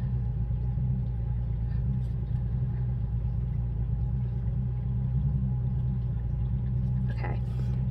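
A neighbor's boat engine being readied runs steadily in the background, a constant low rumbling drone throughout with no breaks, fairly faint and distant.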